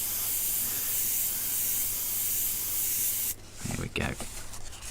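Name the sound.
airbrush spraying paint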